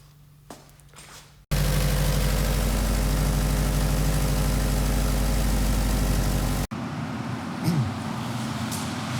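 A Subaru STI with a rotated 6266 turbo setup and a weak battery fires up and runs loudly at a steady idle for about five seconds, then cuts out abruptly, leaving quieter background noise before and after.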